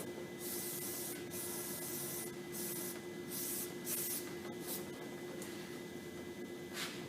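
Repeated bursts of aerosol cleaner hissing onto a brake rotor above a drain pan, roughly eight close, loud sprays of varying length separated by short gaps over a faint steady hum; no talking.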